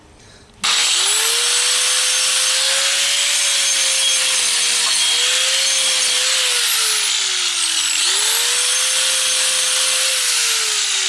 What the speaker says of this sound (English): I just got myself a little grinder with that diamond tip on it and just do this.